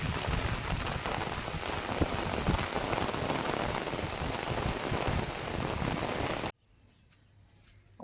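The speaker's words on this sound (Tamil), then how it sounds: "எங்கள் பகுதியில் தொடர்ந்து மழை பெஞ்சிக்கிட்டே வருது" Steady, heavy rain falls on a surface in an area of prolonged August rain, a dense hiss that continues for about six and a half seconds before cutting off abruptly into near silence, with no talking.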